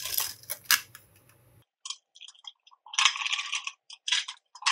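A handheld paper centrifuge spun very fast by pulling its strings gives quiet, irregular clicking and whirring bursts, rising in patches with short gaps between them.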